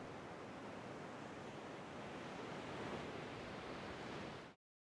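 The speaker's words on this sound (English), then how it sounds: "it is replaced by the sound of waves crashing against a rocky shore" Waves crash against a rocky shore in an audio drama scene, a steady, dense roar of surf that holds at even loudness and then cuts off abruptly near the end, with no voices.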